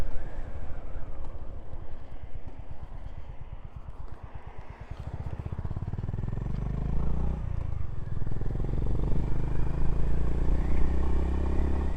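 A Honda GB350 motorcycle being ridden, with its engine pulsing at a steady, fast rhythm for the first half before settling into a smoother, heavy rumble, and loud wind buffeting throughout.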